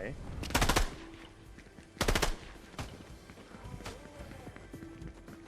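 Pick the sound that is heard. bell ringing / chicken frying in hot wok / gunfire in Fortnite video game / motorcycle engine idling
gunfire in Fortnite video game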